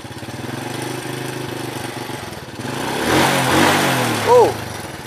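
A motorcycle engine idles with a steady, low putter, then revs up briefly and grows louder toward the end.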